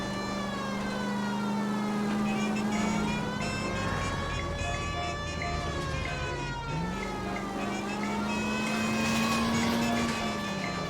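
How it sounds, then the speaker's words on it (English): Police car siren in the video game L.A. Noire, wailing loudly and continuously with slow rising and falling sweeps over a steady rumble of engine and road noise. "We might as well use our siren here."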